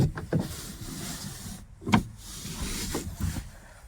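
A 2013 Santro GL Plus car's power window motor whirs quietly, with a short bump or click partway through and faint background noise. No one speaks.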